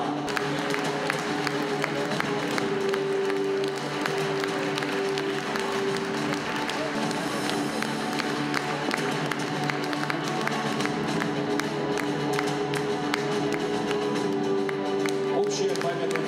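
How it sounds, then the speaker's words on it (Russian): Audience at an award ceremony for a women-of-the-year contest in Kazan applauding at length, with a continuous dense patter of hand claps over a sustained music-like tone and a few brighter isolated claps. "Друзья, давайте еще раз наградим ее аплодисменты."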